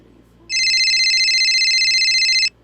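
A phone call rings out as a single steady electronic tone, loud and close, lasting about two seconds before cutting off.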